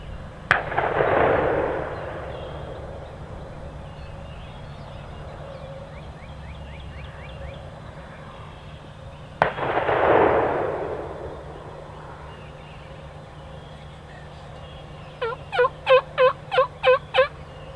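Wild turkeys gobble in spring woods, two loud rolling gobbles answering faint distant gunshots from a neighboring property, followed by a rapid series of short, evenly spaced calls near the end over steady outdoor ambience.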